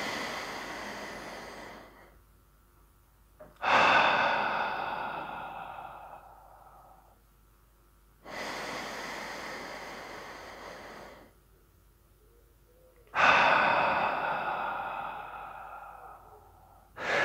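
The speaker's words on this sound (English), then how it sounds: "breathe through your nose and out through your mouth, and concentrate on the belly breathing here" Slow deep belly breaths, each a long nasal inhale and a sighing exhale through the mouth, repeated in an even rhythm, close and clear with nothing else underneath.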